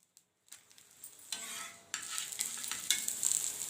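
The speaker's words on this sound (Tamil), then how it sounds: "அப்படியே தவா போட்டு லைட்டாக எண்ணெய் ஊற்றி விடலாம். அப்படியே வேகட்டும்." Paruppu poli, a sweet lentil-stuffed flatbread, cooking in a little oil on a tawa, starting from near silence and building into a soft, steady sizzle with a few light utensil clinks.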